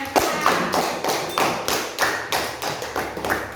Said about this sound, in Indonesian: Oke, tepuk tangan, tepuk tangan